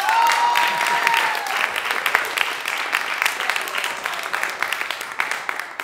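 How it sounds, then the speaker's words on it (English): Concert audience at an experimental music event applauds the stage manager with loud, sustained clapping, with a brief whistle-like tone at the start and a few individual claps standing out as it thins. "give him a uh, round of applause for stage manager."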